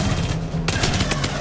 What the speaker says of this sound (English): The SMG is just way too much fun.